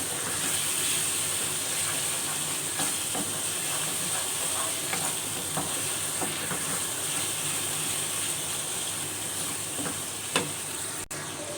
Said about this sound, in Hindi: गार्लिक पेस्ट और जिंजर पेस्ट अच्छी तरह से भून लेंगे